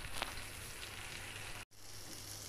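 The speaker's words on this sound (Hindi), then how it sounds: "अब तेल में हम हल्के हल्के टिक्की को डालेंगे।" Lentil kebab patties of whole masoor dal frying in hot oil, a steady soft sizzle and crackle throughout, close and even, broken by a brief cut near the end.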